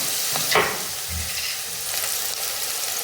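Oil sautéing in a pan for a coconut and drumstick semi gravy, sizzling steadily and loudly up close with a few scraping stirs and no talking.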